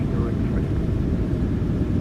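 Boeing 737-800 engines in Microsoft Flight Simulator 2020 give a loud, steady low roar with broadband rumble, sustained throughout during the takeoff roll.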